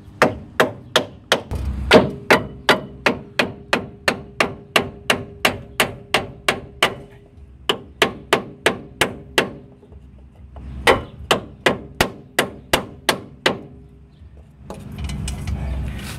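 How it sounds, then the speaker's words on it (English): Hammer tapping on a block of wood to seat a front strut on a 2004–2008 Ford F-150, a long steady run of sharp, evenly spaced knocks with a short pause midway, close and loud. "we're going to take our wood and a hammer. I'm going to just give it a few taps"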